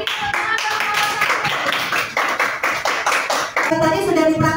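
Students in an elementary mathematics classroom clap for group 1 with sharp, rhythmic claps in quick bursts. Children's voices and some singing-like vocal tones mix with the clapping, and a sustained vocal passage closes the clip.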